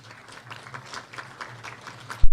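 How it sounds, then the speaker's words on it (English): Scattered applause from a forum audience in Karen, Nairobi, welcoming a principal secretary to the podium: fairly faint, uneven clapping over a low steady hum, ending in a sudden loud thump. "A warm round of applause to the PS as he comes to address us."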